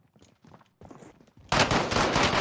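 Gunfire in the battle royale game Warzone: after quieter scattered sounds and footsteps, a loud sustained burst of rapid automatic shots breaks in and continues to the end.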